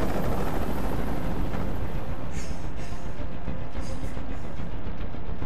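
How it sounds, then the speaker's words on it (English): A helicopter's rotor in the video game Detroit: Become Human drones loud and continuous, a dense broadband rumble with faint rhythmic chopping. "I can't stand that noise anymore. Tell that helicopter to get out of here."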